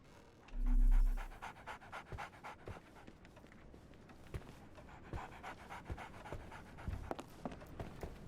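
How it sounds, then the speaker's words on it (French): Dog panting in the Sherlock Holmes: The Awakened video game, a steady run of quick breathy pants over soft game ambience, with a low thud early on. "Ah tiens, le chien."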